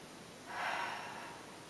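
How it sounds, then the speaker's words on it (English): A single slow, deep breath drawn in close to the microphone, a soft airy rush swelling and fading over about a second in an otherwise quiet room. "Take a deep breath."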